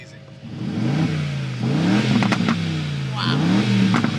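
A new Aston Martin Vantage's engine rises and falls in two strong revs with crisp exhaust pops over the top, close and loud, while a person talks over it.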